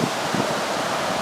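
Steady wind rushing beside a river, a broad continuous roar with no breaks, loud and close to the microphone.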